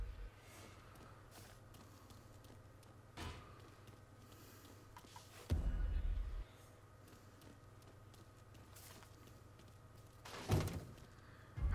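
Dull thuds from a man kicking boxes in Mafia III, with two heavier, louder thumps standing out over a low, steady game background hum.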